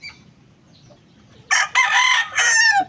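A young six-month-old lemon sweater gamecock crows loudly and close by after a quiet start, its strained call broken into two long bursts with a short gap between.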